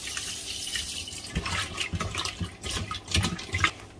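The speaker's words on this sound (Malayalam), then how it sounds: "ഇനി നമുക്ക് കുറച്ച് വെള്ളം ചേർക്കാം." Water poured from a tap over sardines being washed in a kitchen, running in uneven splashing bursts with a steady trickle underneath, close and fairly quiet, with no talking.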